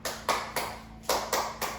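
Rhythmic group clapping for a classroom clap chant, five or six sharp, close claps in an uneven pattern, with no voices.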